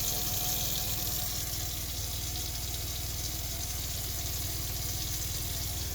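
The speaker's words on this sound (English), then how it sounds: "when I pull the faucet, it all works" Water pours steadily from a newly installed single-handle faucet, a continuous close rushing hiss with no talking.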